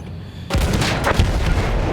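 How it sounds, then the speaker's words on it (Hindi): Gunfire and a heavy blast in the Battlefield 1 video game, a sudden loud boom breaking into rolling, rumbling battle noise with a few sharper cracks following close behind. "इस तरफ से किसी ने फायरिंग किया"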